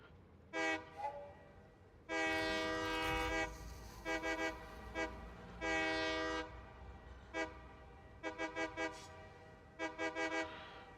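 A train whistle in the Satisfactory video game sounds in a series of loud, clear blasts, some long and some short, with quick toots toward the end and no talking.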